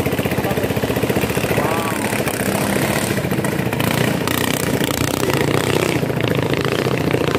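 A small ketinting longtail boat engine in Sengkang, Wajo, drones with a rapid, rattling putter, loud and close, running steadily throughout with faint voices in the background.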